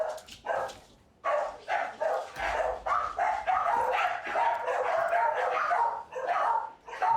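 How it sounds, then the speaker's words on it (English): A dog named Bella barks in a run of short, sharp bursts, fairly close and loud, continuing almost without pause through the clip with a few gaps at the start. "Bella's barking."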